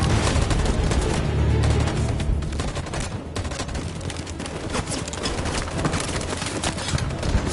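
Gunfire in the video game Detroit: Become Human, a loud, continuous barrage of rapid shots and booms in close, dense volleys with little pause.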